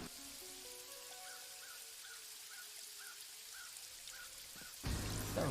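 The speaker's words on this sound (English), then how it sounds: "It's raining." Steady hiss of rain fills a scene in the video game Paradise Killer, a soft constant wash with faint melodic tones over it, ending in a louder burst of noise.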